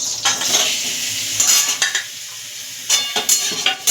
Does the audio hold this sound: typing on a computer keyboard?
no